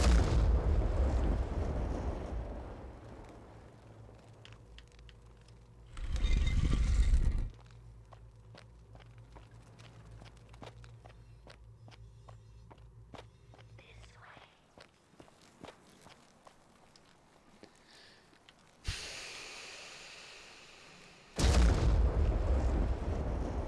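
Gunfire and explosions from The Forgotten City video game come as heavy, loud bursts that boom out three times, set against steady in-game footsteps and quieter scattered shots.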